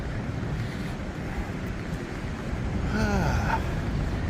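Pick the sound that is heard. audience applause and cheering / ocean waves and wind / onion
ocean waves and wind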